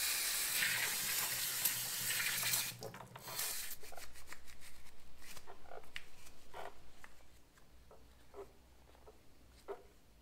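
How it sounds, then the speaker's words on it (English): Brake cleaner sprays onto the front brake caliper of a Honda Africa Twin motorcycle, a loud close hiss for a few seconds, then a pulsing spray and dripping, with scattered small clicks as it fades. "I'm actually going to use some brake cleaner to actually clean it up a little bit before I put the new pads in here."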